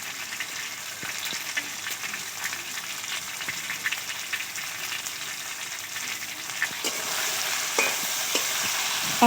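Chicken and garlic stirred in a frying pan: a steady oily sizzle with repeated light scraping strokes of the spoon, close and continuous, growing slightly louder toward the end.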